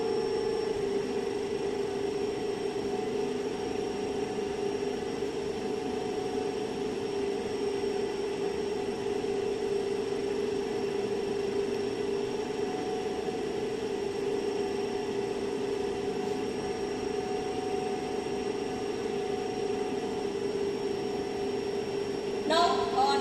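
A DC shunt motor runs steadily at 1500 RPM in a lab, giving a constant electrical hum with a continuous whirring drone, even and unchanging throughout, close and moderately loud.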